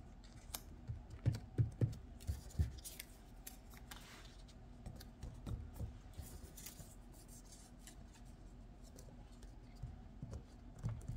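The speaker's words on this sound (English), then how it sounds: "I'm going to cut this one a bit just to fill under the chin." Scissors snipping paper at an art journaling table, a run of short, crisp cuts near the start followed by quieter intermittent snips and rustling of paper, close-up with no talk.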